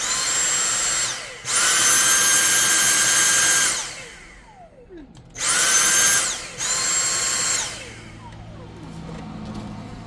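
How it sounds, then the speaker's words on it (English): A Dyson cordless vacuum on max power whirs in loud, high-pitched bursts, starting and stopping several times with brief quiet gaps between runs. "There it is on normal, and then we'll go max."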